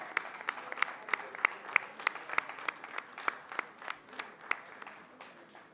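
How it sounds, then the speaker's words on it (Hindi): Applause at a cricket awards ceremony in Karachi: a faint, evenly paced run of distinct claps from a small group, steady and rhythmic throughout. "Ward international basketball coach SM Tanveer भाई, कम से कम लाइफ टाइम के लिए तो खड़े होकर तालियां बजा दें।"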